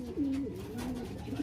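A homing pigeon hen coos close by, just back from a race from Vigan: a low, throaty coo rolling through about a second and a half with a soft rise and fall.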